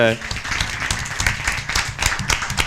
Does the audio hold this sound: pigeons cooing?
no